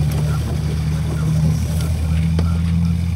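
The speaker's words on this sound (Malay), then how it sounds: "Dengar tak bunyi diorang punya engine boat?" An Israeli boat's engine running nearby at sea: a loud, steady low mechanical drone with a constant pitch throughout, with faint voices underneath.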